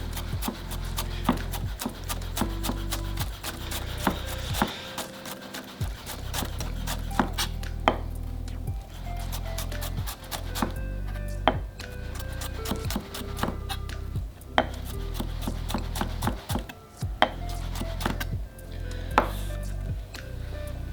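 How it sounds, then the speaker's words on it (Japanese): A chef's knife finely mincing on a cutting board taps out a rapid, steady chopping rhythm, close and crisp, continuing almost without pause. "でこのまま同じように横にも細かく切れ込みを入れてカット。"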